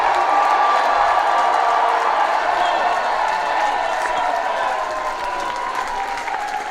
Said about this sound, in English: A round of applause to both these teams